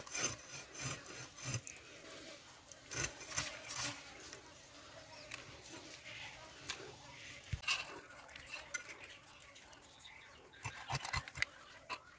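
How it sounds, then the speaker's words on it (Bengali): Small scales being rubbed and scraped off a river gang bogo fish make a quiet, irregular rasping and scratching, in short repeated strokes close by. "এই মাছে ছোট ছোট আঁশ আছে আঁশগুলো ভালো করে এরকম ঘষে ঘষে ছাড়াতে হবে"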